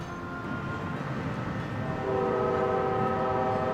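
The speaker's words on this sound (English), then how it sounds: "Can you hear the train whistle?" A train whistle sounds in sustained tones over the low rumble of a passing train, getting louder partway through.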